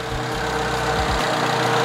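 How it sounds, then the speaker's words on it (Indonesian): Toyota Etios car engine idling with the hood open, a steady loud low rumble with a constant tonal hum and a brief fluctuation near the middle, no talking. "Nah, coba kita hidupkan. Nah, kondisi mesinnya seperti ini."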